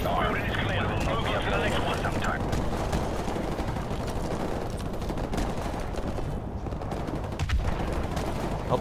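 Rapid automatic gunfire from a Call of Duty 4 Remastered firefight, a dense, continuous rattle of shots that stays loud for the whole stretch with voices mixed in.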